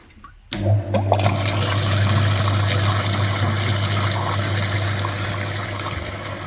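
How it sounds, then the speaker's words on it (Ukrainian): Water gushes steadily as it flushes a very dirty heater radiator, the heater core of an Opel Meriva B's cooling system. The loud, close rushing starts suddenly and keeps going without a break, and no one speaks. "Миємо такий радіатор брудний."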